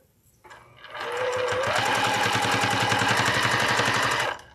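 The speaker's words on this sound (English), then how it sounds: "Put it back in your machine and top stitch." A sewing machine topstitches fabric on a Christmas stocking, starting up, holding a loud, close, even rapid needle rhythm for about three seconds, then halting.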